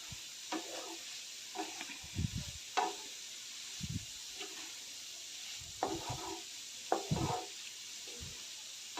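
Chopped cabbage being stir-fried in a pan, with faint sizzling under a series of soft scraping and tapping spatula stirs, scattered and irregular, quiet and close.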